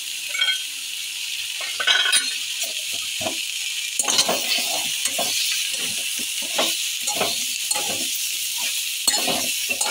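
A spice paste of turmeric, Kashmiri chilli, cumin and ginger paste fries in a pan with a steady hiss of sizzling oil, punctuated by repeated scraping and clinking strokes of a spoon stirring the masala, close up, with no talking.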